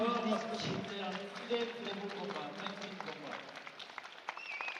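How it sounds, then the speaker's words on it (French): Audience applause after an elite F52 fusion combat bout, a steady patter of clapping from a crowd spread through the hall, with voices talking over it throughout. "Applaudie par un public."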